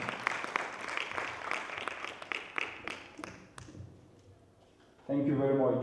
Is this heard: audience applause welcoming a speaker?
yes